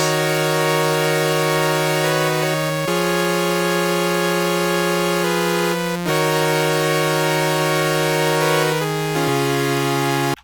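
Sustained, bright synthesizer chords from the Serum 2 initial preset with a buzzy, raw tone, changing roughly every three seconds, loud and steady with no talking.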